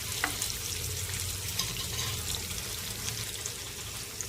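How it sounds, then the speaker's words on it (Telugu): Onions, green chilies and curry leaves fry in hot oil in a pan, giving a steady, close sizzle that holds evenly throughout with no voices. "ఆయిల్ వేసుకొని ఉల్లిపాయలు, పచ్చిమిర్చి, కరివేపాకు వేసుకోవాలి"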